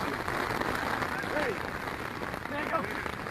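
Steady rain comes down over an outdoor spring flag football game, a continuous broad wash of drops with faint crowd and field noise mixed in, while a voice speaks over it.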